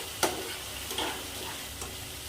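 Onion masala frying in oil on a medium flame, a continuous close sizzle punctuated by three sharp stirring scrapes against the pan.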